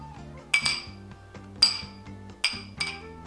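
Cups clink together in a toast, four sharp ringing taps spread over a few seconds, close and bright, each fading quickly against a quiet background.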